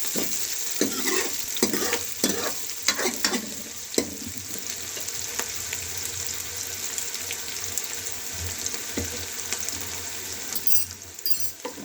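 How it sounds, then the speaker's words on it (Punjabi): Onions sizzle steadily in hot oil in a pan for a chana dal tadka, a close continuous frying hiss broken by occasional stirring scrapes. "ਹੁਣ ਅਸੀਂ ਆਪਣੇ ਪਿਆਜ਼ਾਂ ਨੂੰ ਚੰਗੀ ਤਰ੍ਹਾਂ ਲਾਲ ਕਰ ਲਾਂਗੇ"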